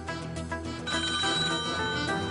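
Telephone ringing on a television game show phone-in line, a bright electronic ring with a clear tonal pattern, sustained and fairly prominent over a faint studio background.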